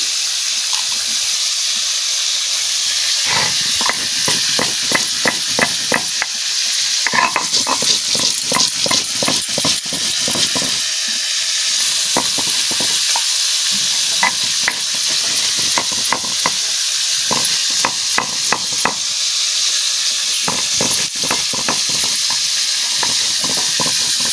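Onion, garlic, whole cumin and coriander fry in a hot pan with a steady close sizzle and hiss, broken by repeated scraping stirs, with no voices.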